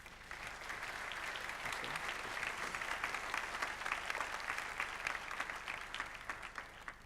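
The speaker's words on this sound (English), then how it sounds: "give a warm round of applause for our panelists" Audience at a logistics technology investment conference plenary gives sustained, even applause for a panel, many hands clapping steadily and close for about seven seconds before tapering slightly at the end.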